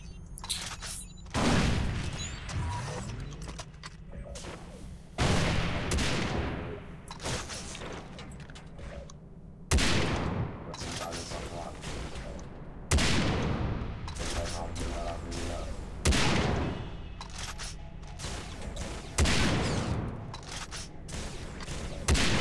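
Gunfire from a first-person shooter, Far Cry 3 Blood Dragon, with sharp loud bursts recurring every few seconds over a steady background game din, one of them a headshot.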